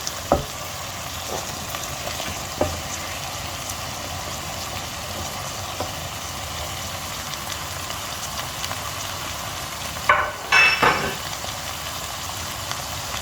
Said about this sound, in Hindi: कैप्सिकम और अनियन जो है वो हम इसमें डाल देंगे और अच्छी तरह मिक्स करेंगे